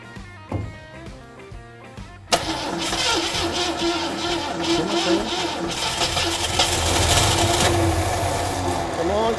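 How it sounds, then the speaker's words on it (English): A 1965 Ford Mustang coupe engine with a fuel issue cranks and tries to start. A loud, continuous churning grind kicks in after about two seconds and holds to the end, with voices mixed in. "We got power and stuff because it is trying to start."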